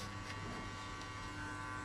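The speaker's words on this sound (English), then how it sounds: "now we're gonna jump to the shaver" Barber's electric shaver running steadily close up while shaving down a mid skin fade, a continuous even buzz with no talk.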